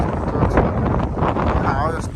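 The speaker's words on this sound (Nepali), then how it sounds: "हावा यस्तो लाग्छ ल" Wind gusting across a Himalayan mountain trail near Marpha and Jomsom, a steady loud roar buffeting the microphone for the whole stretch, with a voice talking underneath.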